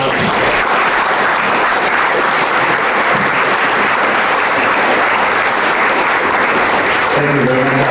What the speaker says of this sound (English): Let's give everybody, the athletes and their parents,